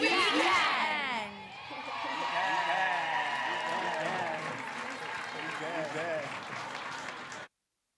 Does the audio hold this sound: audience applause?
yes